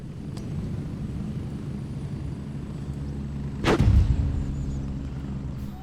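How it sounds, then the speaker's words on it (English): A grenade goes off in the Gray Zone Warfare shooter, one sharp booming blast at mid distance over a steady low rumble of background noise. "Oh, someone dropped the nade."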